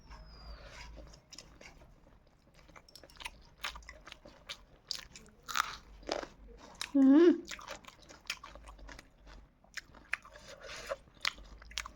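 Close-up crunchy bites and wet chewing of a raw green chili, irregular and fairly near, with brief voiced sounds and a short vocal hum partway through.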